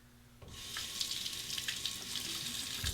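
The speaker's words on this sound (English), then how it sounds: "Just a quick rinse." A safety razor is given a quick rinse under a running tap, a steady hiss and splash of water over a sink that starts abruptly and continues evenly, close by and moderately loud.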